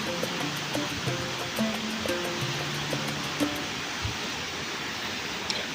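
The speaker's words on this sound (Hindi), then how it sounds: "मेरी आवाज़ शायद आप तक ना आए क्योंकि पानी का शोर है" Steady roar of a waterfall in Kumrat Valley, a broad hiss of falling water filling the scene evenly at close range, with faint tonal chirps and bits of background sound scattered across it.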